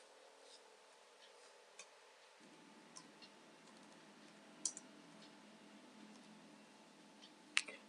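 Sparse, faint clicks of keys pressed on a computer keyboard while a command is typed, with a few sharper taps against a quiet room hum.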